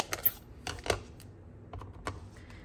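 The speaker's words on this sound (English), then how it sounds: "We gotta stamp our sentiment too." A rubber stamp is pressed onto a valentine card in a few soft, separate taps and thuds, close and quiet, with no talking.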